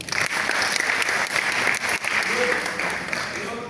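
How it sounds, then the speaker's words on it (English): Audience clapping for a student at a school career event, a steady dense round of applause filling the room at close range with some voices mixed in. "Clap for her, please"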